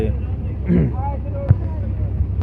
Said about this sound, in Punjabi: ਇੱਕ ਹੋਰ ਟਰੈਕਟਰ ਆ ਗਿਆ ਇਹ ਸਾਰੇ ਟਰੈਕਟਰ ਬੰਨ ਤੇ ਜਾ ਰਹੇ ਆ